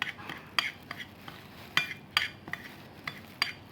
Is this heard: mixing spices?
yes